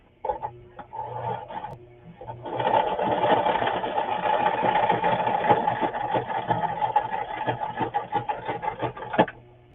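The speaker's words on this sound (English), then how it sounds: "I love the effect of sewing, but sometimes I hate my machine because it don't want to do what I want it to do." A sewing machine stitches through a handmade journal. A few short start-stop bursts give way to a steady, close mechanical whir that runs for about seven seconds before cutting off. No one speaks.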